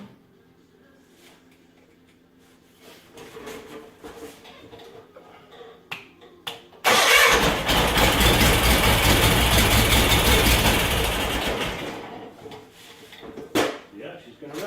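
A John Deere garden tractor engine turns over and catches, a loud broadband rumble lasting about five seconds after scattered clicks and faint talk, then fading back to lighter mechanical sounds.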